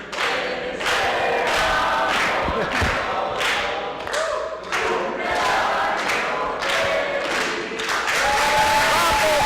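A large crowd at a talk applauds loudly and continuously, with rhythmic waves of clapping and some cheering mixed in.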